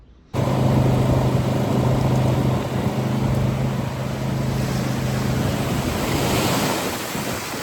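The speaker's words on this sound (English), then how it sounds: "A little windy out." Steady wind from a severe winter storm in Alaska roars and buffets close to the microphone, a constant rushing noise with a low hum beneath it.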